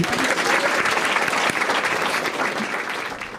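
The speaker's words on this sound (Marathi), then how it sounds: "एकदा टाळ्या वाजवायच्या." A live stand-up comedy crowd bursts into dense, sustained applause that stays loud and even for a few seconds, then eases slightly toward the end; nobody speaks over it.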